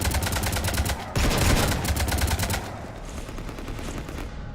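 Sustained rapid gunfire shooting up a ship in Mass Effect 3, a dense fast rattle of shots that keeps going, then thins and fades into a softer background rumble.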